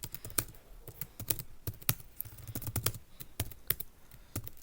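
Computer keyboard keys clack close by in uneven bursts as someone types React code, with short pauses between the keystrokes.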